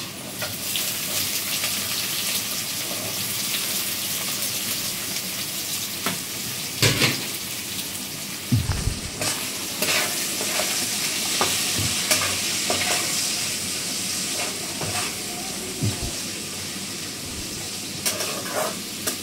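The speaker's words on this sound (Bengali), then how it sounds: "হালকা হালকা করে পেঁয়াজটা ভাজবো" Onions frying lightly in a pan after garlic, while cooking chicken: a continuous moderate sizzle with frequent stirring scrapes and a few sharper knocks of the utensil.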